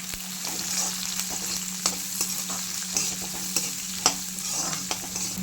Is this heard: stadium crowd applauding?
no